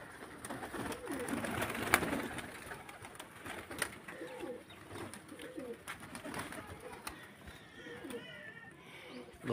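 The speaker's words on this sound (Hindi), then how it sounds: "गाइस ये देखें कबूतर मस्ती कर रहे हैं" Pigeons coo faintly and intermittently while playing in light rain, their low calls half-buried under a steady hiss of background noise.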